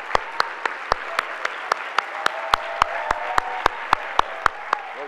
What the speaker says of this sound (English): I'd like to thank Donna and give her a round of applause.